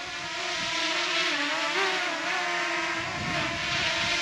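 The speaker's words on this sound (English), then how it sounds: "So there's the little drone." A DJI Mini 2 drone flying in the Snake River Canyon gives a steady, fairly close high-pitched propeller whine that wavers slightly, with no talk.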